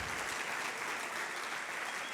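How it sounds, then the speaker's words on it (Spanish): Steady applause from a church congregation, a dense wash of clapping that holds at an even level throughout without pause. "denle un aplauso fuerte al Señor"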